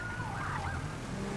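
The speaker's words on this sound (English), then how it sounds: "Still not yielding to my siren." A police car siren wails steadily in a pursuit of a black muscle car that won't yield, its sweeping tone rising and falling over road rumble throughout.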